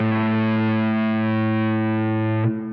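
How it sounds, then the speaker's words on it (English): A sustained distorted electric guitar chord through a BOSS ME-80 with reverb rings out thick and loud with a wash of reverb, then is cut short near the end. "let's turn on the reverb there and turn that up a little bit"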